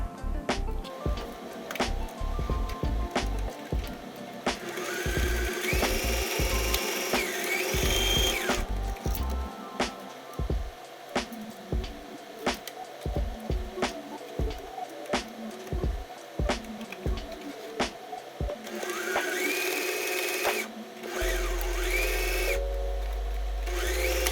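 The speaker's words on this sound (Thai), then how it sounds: "จากนั้นนะคะเราก็จะนำไปเย็บปิดเลยค่ะ" Sewing machine stitching a cloth jar-cover bag closed, with repeated short bursts of machine running separated by pauses, fairly close and clear, alone without talk.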